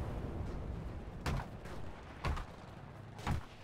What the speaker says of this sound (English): Oh, I'm gonna get killed by grenade.